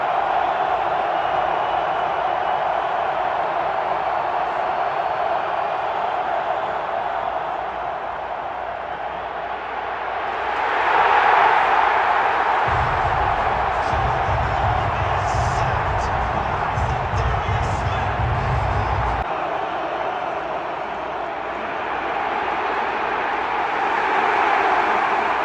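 A loud stadium crowd at a Detroit Lions playoff game, heard from the rooftop: a steady, massive roar that swells into a louder surge partway through, then settles back to a constant wash of noise.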